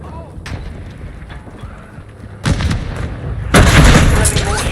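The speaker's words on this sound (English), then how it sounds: "Friendly mortar strike on the way." Mortar strike explosions in a war video game: a few distant thuds, then two heavy booming bursts that grow louder and denser, with the rumble carrying on between hits.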